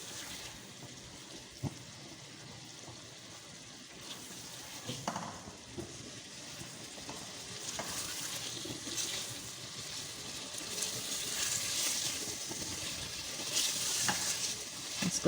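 Beef stew stirred and roasted in a pan, with a steady sizzle and frying hiss, scattered scrapes of the spoon against the pan, and the sizzling growing louder toward the end.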